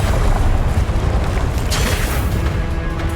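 A Confringo blasting spell in Hogwarts Legacy lands as a loud, rumbling boom with a burst near 1.7 seconds, followed by a sustained roar that trails off.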